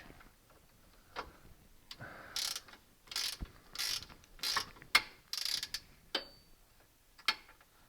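Ratchet wrench with a 17mm socket tightening a Tein Flex Z coilover on a 2014 Subaru STI hatchback, giving repeated short bursts of close, crisp ratchet clicking with brief pauses between strokes and no talking.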